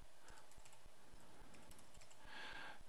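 Typing on a computer keyboard, a quick run of light, faint key clicks at a steady rhythm, heard alone without any talking.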